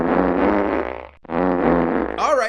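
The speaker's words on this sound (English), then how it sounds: "they've made Putin's Alexa play the Ukrainian national anthem with fart noises" Comedic fart noises played in a melodic, tonal sequence like a tune, two sustained bursts separated by a brief gap, followed by a higher warbling squeak, loud and without talk.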